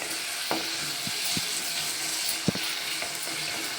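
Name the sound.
onion and tomato frying in oil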